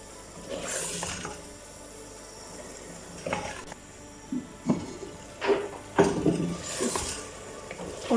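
Milk stirred into a pot of potato and spinach curry, with soft scraping and clinks of a spoon against the pot that grow louder and more frequent toward the end, over a low background hiss.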